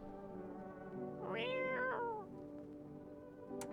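A single drawn-out cat meow from the video game No, I'm Not a Human rises and falls over about a second, clear and close above a quiet steady background hum.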